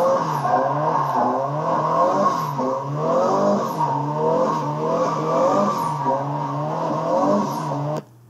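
A Nissan with an SR20DET engine and a welded differential drifts, a steady revving engine note wavering up and down continuously for several seconds, loud and fairly close, cutting off abruptly at the end.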